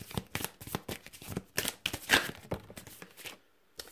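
Tarot cards are shuffled by hand in quick, rhythmic riffles and flicks, close and crisp, ending in a brief pause and one final snap.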